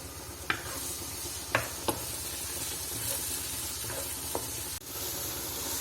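Ginger-garlic paste sizzling steadily in a pan, a close, continuous frying hiss broken by a few sharp spoon taps and stirs, no talk.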